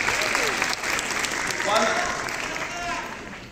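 Audience applause at a Ukrainian charity auction, sustained clapping from a crowd heard under a voice talking over it, fairly steady in level for the whole stretch.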